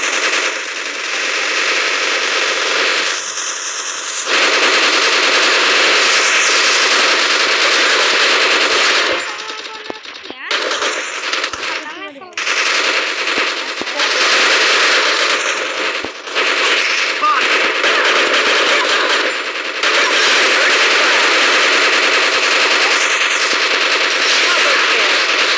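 Rapid automatic gunfire in the video game Free Fire rattles in long, loud bursts with brief gaps, with scattered clicks and metallic clinks between volleys.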